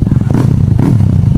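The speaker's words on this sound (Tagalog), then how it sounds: "walang silencer yun guys. Tinanggal natin para mas lumabas yung potential ng muffler natin." A Honda Click 160 with a full-system aftermarket exhaust and no silencer revs hard and loud, a raw, rattly exhaust blat pulsing in short bursts close by.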